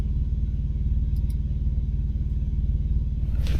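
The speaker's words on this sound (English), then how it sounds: "Oh, that red truck's pulling out. So now he'll back in" A red truck idling with a deep, steady low engine rumble close by, holding an even drone for a few seconds with a brief hiss near the end.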